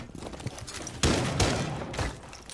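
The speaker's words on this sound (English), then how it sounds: "Cluster charge activated." A Fuze cluster charge detonates in a tactical shooter video game, a rapid string of close explosive bangs and thumps rattling off in quick succession, loudest near the middle.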